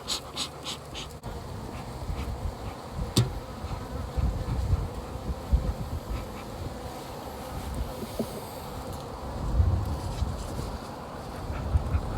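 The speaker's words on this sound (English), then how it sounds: "Yeah, they're still not happy bees." Agitated bees swarm around a large hive crowded with drones, filling the air with a dense, continuous buzzing hum that rises and falls as individual insects pass near, with a few sharp knocks and clicks early on.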